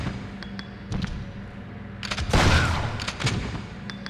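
Close-range shotgun blasts aimed at a Hunter R in Resident Evil Outbreak: a few sharp game gunshots with a loud booming blast and rumbling tail in the middle, over constant game background noise.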